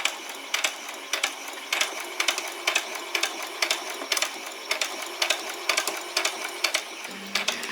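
Sewing machine back stitching on a basic dress, a close, rhythmic series of short needle bursts in a regular pulse, ending with a brief low motor hum.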